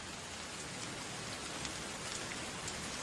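Torrential monsoon rain in Singapore pours steadily, a dense, even hiss of drops drumming on surfaces with no breaks and no voices.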